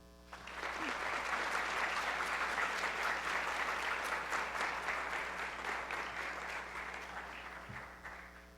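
An audience at a conference on Chile's constitutional convention breaks into a hearty round of applause that swells in quickly, holds strong and even, then tapers slightly toward the end, heard from some distance.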